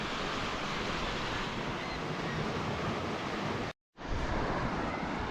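Surf rolling in along a wild, rugged Scottish coastline with seaweed in the water, a loud, steady roar of breaking waves and wind, cut by a brief dropout.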